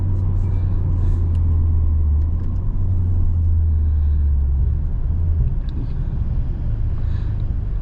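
A car in sport mode rumbles loudly and steadily from the cabin with the top down, its deep engine drone easing slightly partway through under faint road and wind noise on a Florida drive.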